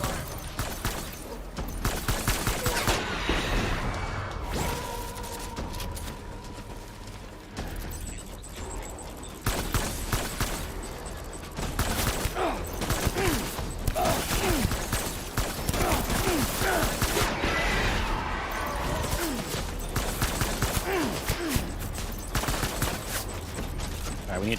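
Sustained gunfire and fusillades from a firefight in Death Stranding on PC, loud bursts repeating densely for the whole stretch with faint voices and game sounds mixed in.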